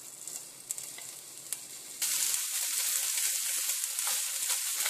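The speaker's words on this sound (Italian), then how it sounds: "la padella è calda, quindi mettiamo la pancetta" Pancetta drops into a hot pan and breaks into a loud, steady sizzle after a quieter start, continuing without pause and without speech.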